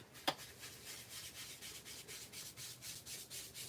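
Ink is rubbed off a stamp in quick, soft, rhythmic strokes, a faint close scrubbing that repeats steadily after one sharp tap at the start.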